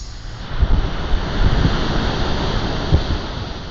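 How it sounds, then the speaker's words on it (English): Ocean waves roll onto a beach in late November, a continuous broad wash with a few heavier surges breaking, mixed with gusty wind rumble on the microphone. "So I've just come down to the beach"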